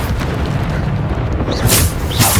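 Bombarda spell blasts in a Hogwarts wizarding video game, a deep booming explosion rumbling steadily throughout and swelling near the end with bright crackling bursts, loud and close.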